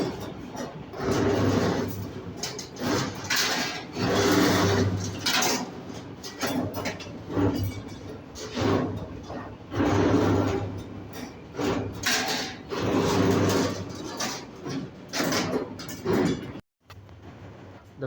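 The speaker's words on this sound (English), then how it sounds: "this is fully automated bending machine" An automated CNC stirrup and bar bending machine runs in steady repeating cycles of clanking, whirring bends, loud and close, with a brief drop to near silence at the end.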